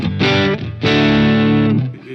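Electric Stratocaster played through a Fender Mustang LT25 amp with a metal gate, phaser, and plate reverb: two loud distorted sustained chords, the second ringing over a second before cutting off abruptly.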